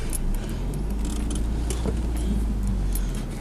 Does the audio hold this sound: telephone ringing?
no